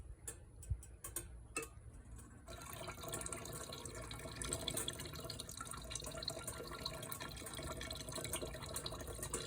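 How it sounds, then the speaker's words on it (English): Distilled nitric acid poured slowly onto silver shot: a quiet lull, then a steady soft trickling, fizzing wash that starts abruptly and continues at an even level to the end. "So I'm gonna start adding the nitric acid slowly."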